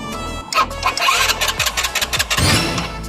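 A battery-powered motorcycle engine cranks and catches, sputtering in uneven, loud, close bursts as it struggles to keep running.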